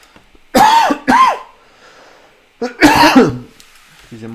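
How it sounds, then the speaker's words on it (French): Several harsh coughs from a man come in two short bursts, close and fairly loud, separated by a quiet pause, with brief vocal sounds near the end. "je sais pas pourquoi je tousse d'un coup"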